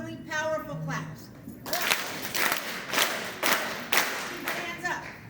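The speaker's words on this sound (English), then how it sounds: "I want 5 really powerful claps." An event audience claps powerfully in unison, delivering about five loud, sharp group claps in a steady rhythm, with a voice and crowd noise heard just before.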